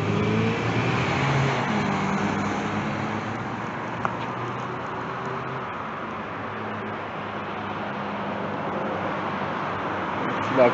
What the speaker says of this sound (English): We got cars coming in here for the prayer service